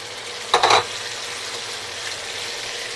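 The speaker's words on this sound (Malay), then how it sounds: "Dan kita goreng dia sampai dia garing" Chicken pieces rubbed with turmeric powder and salt hit hot oil in a pan, giving one short, loud burst of sizzling that quickly drops back to a steady, faint frying hiss.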